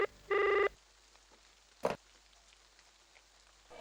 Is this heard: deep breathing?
no